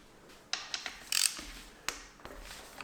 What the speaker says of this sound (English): It is held on by a 14mm bolt. Just remove that.